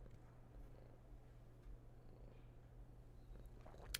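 A cat purrs softly and steadily close by, a faint continuous low rumble with no voices over it.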